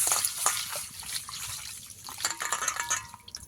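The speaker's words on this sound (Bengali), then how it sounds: "ডালটাকে একবার ধুয়ে নেব।" Lentils for veg dal being rinsed by hand in a home kitchen, with close, faint splashing, dripping and trickling water in irregular bursts.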